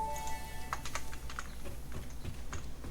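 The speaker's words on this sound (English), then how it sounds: "Can you hear my clicking of the keyboard when I do that?" A computer keyboard clicks in a quick irregular run of keystrokes, close and fairly loud, over a steady hum of game sound during Satisfactory play.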